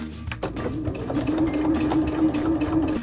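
A sewing machine stitches fabric for a kei camper's pop-up roof, a steady, fast mechanical whirring hum that runs continuously for a few seconds, close and loud, with no talking.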